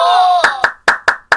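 In a children's story read aloud, a long tone fades into five quick, crisp, evenly spaced hand claps, close and clear with silence between them.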